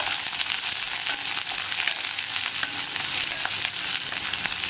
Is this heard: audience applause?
no